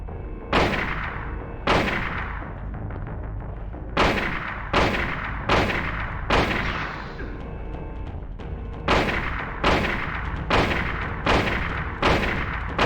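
Rifle shots in the Silent Hill video game, a dozen sharp loud cracks fired one at a time at irregular intervals of about a second, each ringing out briefly.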